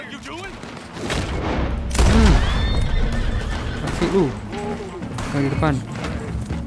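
Horses neigh and whinny loudly with rapid clip-clop hooves while galloping in the video game Red Dead Redemption 2, mixed with gunfire bursts, and someone talks over the action.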